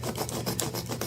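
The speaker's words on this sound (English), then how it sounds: "I take the flat part of my blade and I rub it" Flat side of a blade rubbed firmly across soiled carpet treated with solvent, giving a steady, close scraping rasp with rhythmic strokes and no voices.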